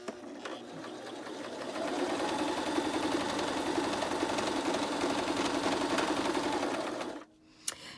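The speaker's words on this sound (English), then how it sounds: "I'm going to do a stitch," A sewing machine runs a straight stitch with no zigzag, a steady close mechanical whirr of rapid needle strokes lasting about seven seconds before it stops abruptly.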